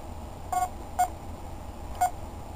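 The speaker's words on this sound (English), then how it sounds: "this is starting up right now if you can't hear the little beeps" Three short, identical electronic beeps from a Cliff Hanger laser arcade machine starting up sound at uneven intervals over a quiet hum.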